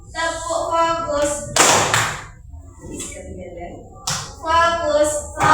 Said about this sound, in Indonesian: Jadi ketika Ibu bilang tepuk fokus, tepuknya satu kali.